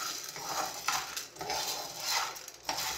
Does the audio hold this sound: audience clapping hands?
no